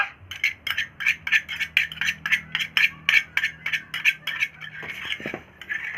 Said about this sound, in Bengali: একটা একটা করে মাছ দিয়ে দিয়েছি এবার নাড়িয়ে নেব এই ছোটটা দিয়ে